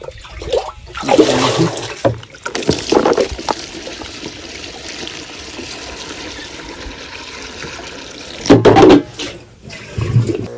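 Water poured from a filled container into a mixture for spraying on a farm, a steady splashing trickle running through most of the clip with louder bursts near the start and end.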